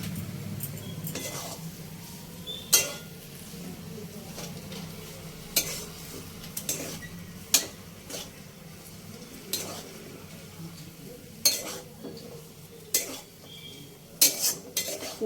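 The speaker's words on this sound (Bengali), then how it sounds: "সব মশলাগুলো আলুর সাথে ভালো করে ভাজা হয়ে গেছে" A spiced potato filling for sandwiches fries in a pan while a utensil stirs and scrapes it. Soft sizzling runs throughout, broken by repeated sharp metallic clinks of the spoon against the pan, close and steady, with no talking.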